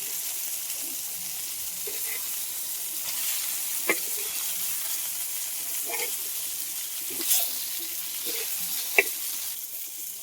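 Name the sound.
mackerel fish frying on a village wood-fired stove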